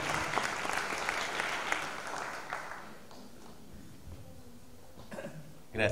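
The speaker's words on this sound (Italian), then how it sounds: "Un applauso, grazie." An audience applauds after a choir performance: dense, close clapping for about three seconds that thins into scattered claps and fades.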